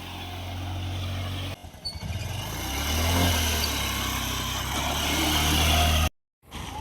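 A Honda Shine motorcycle is ridden for stunts on a muddy track. Its engine gives a steady, close low drone that dips briefly near two seconds and cuts out sharply near six seconds.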